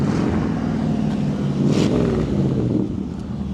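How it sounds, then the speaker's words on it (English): A 1955 Ford Fairlane Crown Victoria's engine runs loud and close, its rough idle rising into a brief rev near the middle before settling back, with no talk over it. "Rev the engine"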